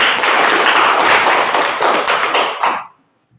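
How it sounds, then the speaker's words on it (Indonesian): Schoolchildren in a classroom clap together in a quick, even rhythm, loud and close, before stopping abruptly into silence. "Tepuk tangan dulu."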